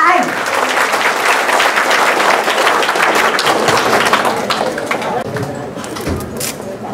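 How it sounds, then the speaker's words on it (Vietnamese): An audience at a folk music concert in San Diego applauds to welcome three performers, loud dense clapping that swells and then gradually thins out. "Xin quý vị một tràng pháo tay để chào đón ba anh."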